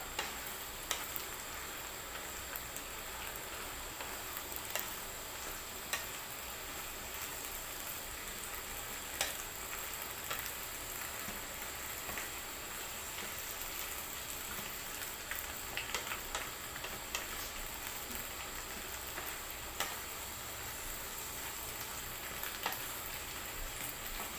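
Vegetables crowd a full wok for an Isan-style beef dish, giving off a steady, close oil sizzle dotted with small crackles and pops, with no talking.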